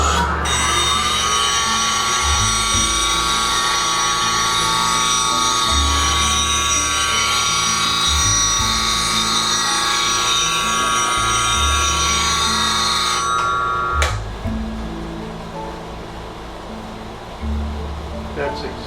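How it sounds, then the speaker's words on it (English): A bench grinder runs steadily with a high whine as a bowl gouge gets a finish grind at a 23-degree setting. It continues loud and constant, then stops abruptly near the end, leaving only a quieter background. "we're going to put a finish grind on this tool"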